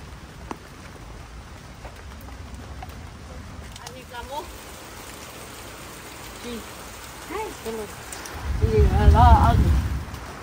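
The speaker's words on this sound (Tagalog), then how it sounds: "Lumalakas ang ulan." Heavy rain grows stronger over a home with a leaking tarp roof, a steady broadband hiss swelling toward the end while voices talk over it.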